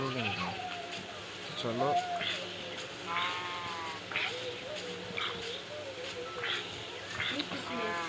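Sheep bleat repeatedly at an Eid ul-Adha livestock market, several wavering cries close by with steady crowd noise and talk underneath.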